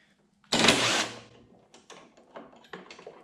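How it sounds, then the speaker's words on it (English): An impact driver fitted with a 10mm socket works loose the chute bolts on a new snowblower, giving one loud close burst about half a second long, then a few softer clanks and rattles as the bolts and tool shift. "I'm gonna use my 10mm socket on my impact driver"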